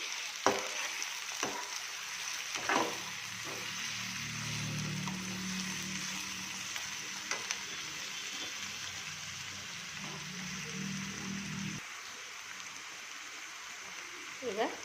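Tomatoes fry in a pan while being stirred, a soft steady sizzle with scraping spoon strokes and a few knocks against the pan, close, with a voice speaking over it at times.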